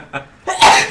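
A single loud sneeze at a tabletop game session, a short sharp intake followed by an explosive burst, close and alone.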